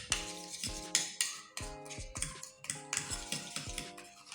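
A spoon stirs a coffee, orange and baking soda mixture in a cup, giving quick rhythmic clinks and scrapes, about a dozen taps in a steady beat, close and clear with no talk.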